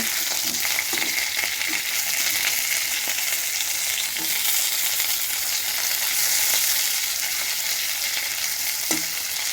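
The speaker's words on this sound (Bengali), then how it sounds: "মাছ ভাজা হয়ে গেছে।" Fish sizzling in hot oil in a pan, a constant dense hiss with occasional pops and light clicks, close and steady, no voices.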